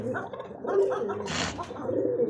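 A pigeon gives soft, low throaty coos in a short burst at close range, with brief rustling or wing noise partway through and no speech.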